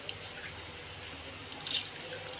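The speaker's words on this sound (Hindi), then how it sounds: "इस दाल को हम डाल देंगे पानी के अंदर।" Soaked moong dal is tipped into water heating in a cooking pot, making a short, soft splash and trickle amid quiet kitchen background.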